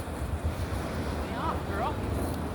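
Pacific Ocean surf at Winchester Bay, Oregon rolls in as a steady, broad wash of waves mixed with wind buffeting the microphone. A few faint chirping sounds rise briefly above the roar.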